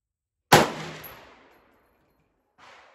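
A single loud, close gunshot from a .50 caliber handgun or rifle, a sharp crack followed by a long decaying echo, with a faint second report trailing a couple of seconds later.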